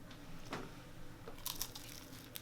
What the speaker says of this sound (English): Ooh, that crunch.